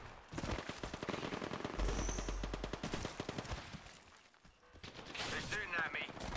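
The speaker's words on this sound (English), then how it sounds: "They're shooting at me." Rapid enemy gunfire in an Apex Legends match, dense bursts of automatic shots crackling steadily throughout, loud and close, with a few brief lulls and game effects layered in.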